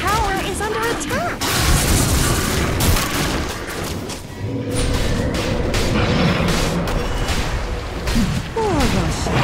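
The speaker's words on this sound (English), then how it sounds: "Radiant's middle tower is under attack!" Radiant's middle tower under attack in the Dota 2 video game, with dense, loud combat impacts, booms and crashing hits layered continuously over game effects and a voice-like alert.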